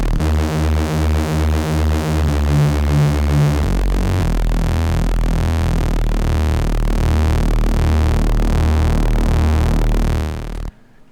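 Bitwig 5.1's Heat distortion effect processing a synth tone, a loud, buzzing, harmonically dense drone that shifts through several distinct stepped timbres, then turns into a pulsing, warbling throb before cutting off abruptly.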